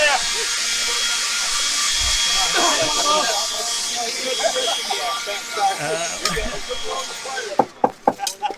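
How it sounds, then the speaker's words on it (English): A leaf blower roars with a steady broadband hiss through most of the stretch, used by fighters to cool down at a armored combat event after a pile-up, with crowd voices and talk underneath before it cuts off near the end, followed by a few sharp knocks. "That noise you're hearing is, in fact, a leaf blower."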